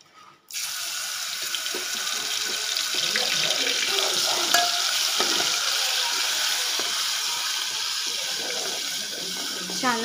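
Ginger-garlic paste frying in the oil left over from frying paneer for palak paneer, giving a loud, steady broadband sizzle that starts abruptly and holds evenly throughout, with small crackles and no talking.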